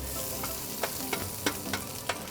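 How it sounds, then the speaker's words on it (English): Onions and greens sizzle quietly in a pan for yaki udon, a soft steady hiss broken by a few sharp scraping clicks of stirring. "First we fry the onions and the greens."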